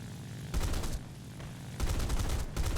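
The nose-mounted guns of an XP-55 Ascender fighter fire in War Thunder, three rapid bursts of close, loud gunfire separated by short gaps of engine drone.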